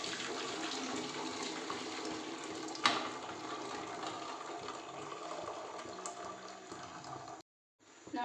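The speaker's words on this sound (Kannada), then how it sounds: "ಇನ್ನು ಜಾಲಲ್ಲಿ ಇದಕ್ಕೆ ಸೋಸೋಣ ರಸನ" Cooked greens and lentil broth pour steadily through a sieve, making a continuous close splashing trickle for several seconds before it cuts out briefly near the end.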